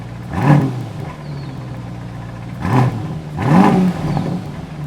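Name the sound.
SUV engine revving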